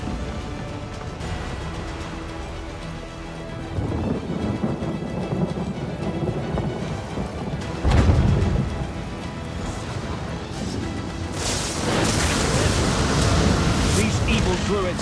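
Rain pours steadily and thunder rumbles and cracks close by during a storm in The Elder Scrolls Online, with a heavy thunderclap partway through and the downpour swelling louder toward the end.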